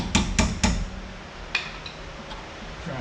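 Sharp metallic taps strike a brake caliper part on a Camaro using a hand-held object as a hammer: three quick close knocks, then one lighter tap after a short pause.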